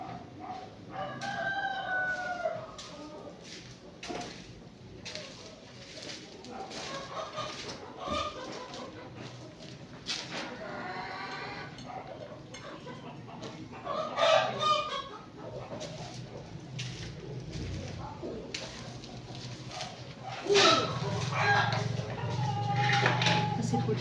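Roosters crow repeatedly and chickens cluck around a house in the Philippines, at moderate distance amid light background clatter and occasional nearby talking.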